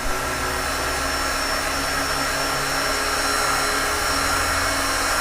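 A heat gun warming the windshield glass of an Audi A6 C7 blows hot air in a continuous loud, steady whoosh with a motor hum, running unbroken throughout.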